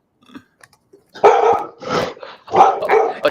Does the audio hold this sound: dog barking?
yes